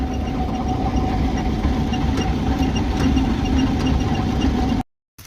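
A tractor engine idles nearby in a wet paddy field, a steady low rumble with a faint rhythmic knock that cuts off abruptly near the end.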